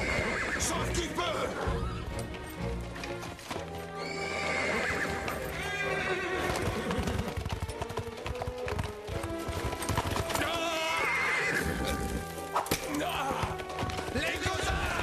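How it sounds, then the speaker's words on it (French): Cartoon horses flee in panic, loud neighing and whinnying over fast galloping hoofbeats and busy dramatic music, with voices shouting briefly in between. "nos chevaux se sont presque tous enfuis"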